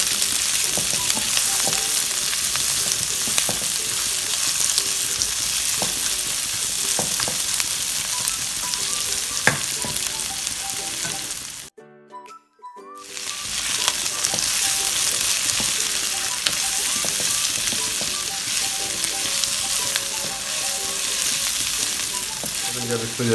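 Onions and green onions sizzle steadily in a hot pan for Singaporean rice, a loud, close hiss with occasional stirring scrapes and one brief drop to silence midway.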